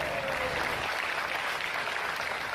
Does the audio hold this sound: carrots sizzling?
no